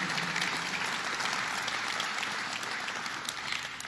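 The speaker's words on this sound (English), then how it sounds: "let's give us a round of applause for my colleagues and the good work they're doing" A crowd at a governor's event for a citizen preparedness training program gives a sustained round of applause, a dense, even roar of clapping that eases slightly toward the end.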